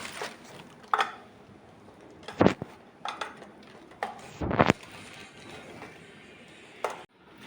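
Dough balls for crisp Telugu dal chekkalu pressed flat with a puri press, giving a series of short clicks and clacks from the metal press at irregular intervals, with two louder knocks midway.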